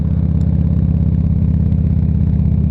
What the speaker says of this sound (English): hopefully you can hear me over the bike and the noise